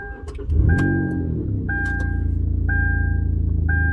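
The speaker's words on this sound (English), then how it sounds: "Now I've gotten it to start twice by using the remote start button on here" A 2012 Kia Rondo with a crank-no-start fault fires up by remote start: a short crank catches into a steady, close idle hum, with repeated electronic chime tones over the running engine and no talk.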